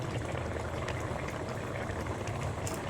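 A pot of fish-head curry with taro bubbling steadily on the stove, a continuous close, moderately loud simmer with dense popping and gurgling throughout, no talking.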